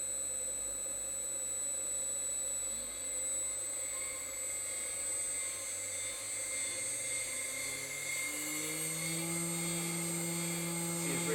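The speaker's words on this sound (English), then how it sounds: "In theory, I send an M3 S2000 spindle. Let's ramp that up." A CNC spindle on an Ooznest OX router driven by a Duet3D controller ramps up in speed, a steady high whine with tones rising gradually, close and continuous with no talk.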